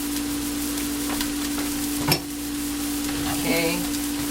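Ground turkey and Italian sausage fry in a pot over moderate heat for black bean chili, a steady close sizzle with a few brief stirring scrapes and clinks.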